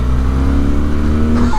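A 2024 BMW R12 boxer motorcycle accelerates out of a corner with a loud, close, continuous engine drone that climbs gradually in pitch, with no voices over it.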